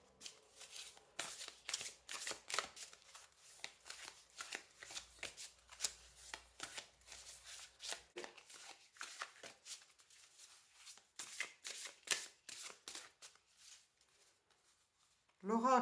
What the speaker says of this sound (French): Je vais tirer une carte pour vous du destin sacré.